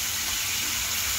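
Cold water pouring from a tap over blanched broccoli, a steady hissing gush filling a bowl or pot, close and alone.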